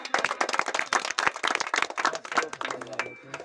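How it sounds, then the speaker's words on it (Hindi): Village crowd clapping for a pledge by the village head, quick loud handclaps close by, mingled with voices and tapering off at the end. "इसके लिए जोरदार तालियां।"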